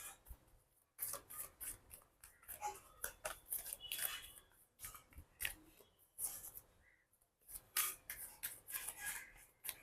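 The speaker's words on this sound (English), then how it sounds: "I'm going to give this deck a really good shuffle" A tarot card deck being shuffled by hand, giving soft, close, irregular riffling and rubbing bursts with brief pauses, faint and with no talk.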